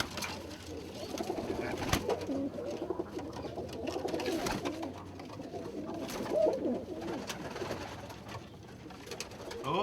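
Roller pigeons in a loft cooing softly and continuously, low and muffled, with faint rustling in the background.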